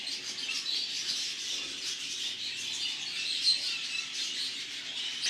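Constant chatter of many budgerigars chirping and twittering together, a dense high-pitched flock sound with no pauses.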